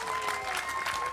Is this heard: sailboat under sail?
no